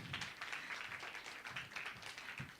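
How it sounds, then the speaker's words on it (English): A congregation applauds after a fundraiser announcement at a church service, with steady, fairly faint clapping from a modest crowd throughout. "Yeah, round of applause."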